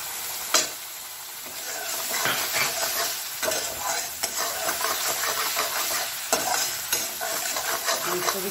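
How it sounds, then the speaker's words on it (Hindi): Green chili and garlic paste sizzling and frying in a pan of paneer butter masala base, stirred steadily with a spoon scraping in irregular strokes, close and continuous with a soft hiss throughout. "चलाते रहेंगे"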